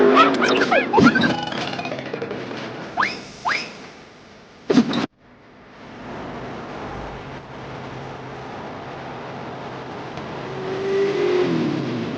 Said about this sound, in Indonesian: Kenapa lagi nih motor?